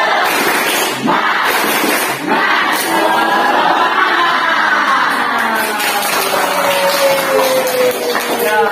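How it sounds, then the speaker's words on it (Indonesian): School class clapping together in a rhythmic group cheer, sharp bursts of hand claps in a patterned sequence with voices chanting along, close and loud in a classroom. "kita tepuk semangat dulu"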